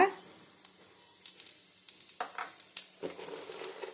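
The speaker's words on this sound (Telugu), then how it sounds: "ఇప్పుడు గీ వేడెక్కిందండి ఇప్పుడు దీంట్లోకి మనం ఫస్ట్ జీరా వేసుకుందాము జీలకర్ర" Cumin seeds drop into hot ghee for jeera rice and start to sizzle, rising into steady, crackling frying with faint stirring.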